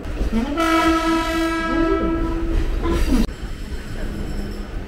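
Sindhu Express, train 10115, sounds a long loud horn at Borivali station, a sustained harmonic blast over rumbling rail noise that cuts off abruptly, followed by steady station and carriage din.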